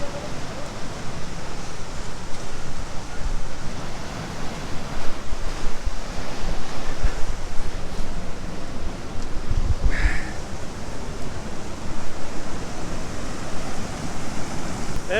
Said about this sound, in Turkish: Evet arkadaşlar şimdi şelalenin yanındayım.